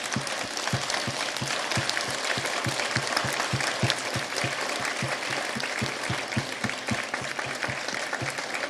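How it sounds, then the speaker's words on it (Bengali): An audience stands and claps heartily for medal winners at an award event, a full, sustained round of applause with some strong rhythmic clapping running through it. "আমার মনে হয় এবার আমরা একটু দাঁড়িয়ে যারা পদক পেলেন তাদের জন্য জোরে একটা তালি দিই"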